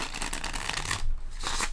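Tarot cards riffled and shuffled by hand, close and crisp, a quick run of papery flutters with a brief pause before another burst of shuffling.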